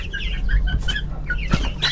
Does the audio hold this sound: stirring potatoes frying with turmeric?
no